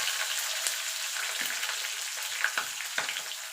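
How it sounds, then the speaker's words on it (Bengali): Spices tempering in hot oil with small tomatoes added to the pan for a Bengali vegetable khichdi, giving a steady loud sizzle with occasional sharper pops and stirring scrapes throughout. "ফোড়নটা একটুখানি ভাজা ভাজা করে নেব, যাতে ফোড়ন থেকে সুন্দর একটা গন্ধ বেরিয়ে আসে"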